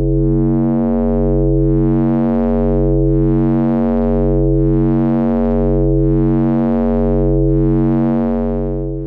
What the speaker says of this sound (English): Right now I have the sawtooth on the Moog Mother-32, going to the linear FM input on the Disting's oscillator in mode 4C, and it sounds like this.